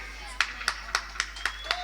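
Audience clapping at a comic drama staged in a village, six sharp, evenly spaced claps in a steady rhythm, close and distinct over faint background sound.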